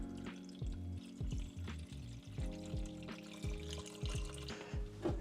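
Stop bath being poured into a black-and-white film developing tank, a gurgling, splashing liquid stream with rhythmic glugging pulses, close and steady for several seconds.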